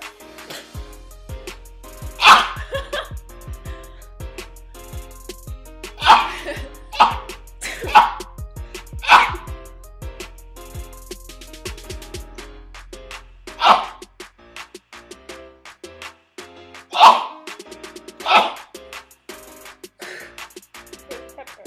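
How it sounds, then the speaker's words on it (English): A person sneezes again and again, roughly nine loud, close sneezes at uneven gaps, with quieter breaths and faint laughter in between. "What made you sneeze so much?"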